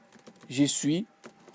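Quick clicks of typing on a computer keyboard while writing HTML, scattered before and after someone speaking French over them.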